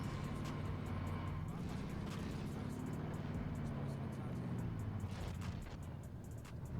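Steady engine drone of a car being driven in a video game, a constant low rumble with rising and falling revs and a few clunks near the end.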